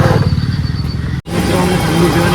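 A motorcycle engine putters close by with a rapid pulsing throb, briefly cut off midway before resuming, as people talk nearby.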